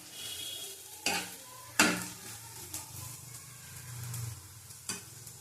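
Potatoes fry in a pan with a low continuous sizzle, punctuated by several distinct metallic scrapes and knocks of a spatula stirring them, close up and without speech.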